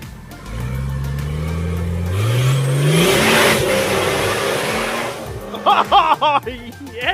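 A boosted Nissan Patrol engine rises in pitch as it accelerates through the gears across a paddock, a loud close whine and roar building steadily, followed by excited shouts over the engine.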